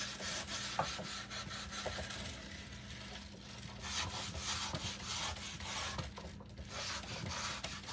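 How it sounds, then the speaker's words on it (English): A scrap piece of wood is hand-sanded to smooth away splinters, giving a steady, close, continuous rasping rub with faint rhythmic strokes throughout. "let me go ahead and sand this"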